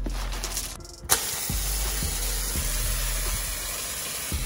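A garden hose sprays water over dusty rocks for a stock tank pond, a steady close hiss that starts after a brief pause and runs on evenly to the end.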